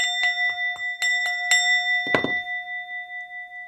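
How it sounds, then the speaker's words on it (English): A small bell is struck repeatedly, about seven quick ringing strikes with clear sustained metallic tones, followed by a muffled thump and a long fading ring-out. "let me hit the bell."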